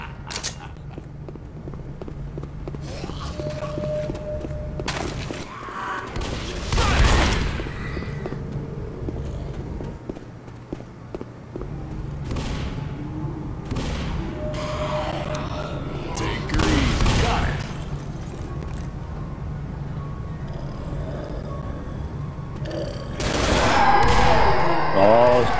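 Gunfire in the Left 4 Dead hospital survival mode, with repeated shots and bursts in clusters over steady game noise, louder near the end, while players talk throughout.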